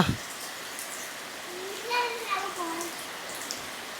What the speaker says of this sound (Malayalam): കിടുകാച്ചി മഴ പെയ്യാൻ തുടങ്ങി